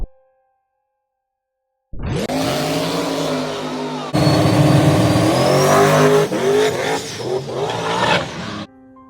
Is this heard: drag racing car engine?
yes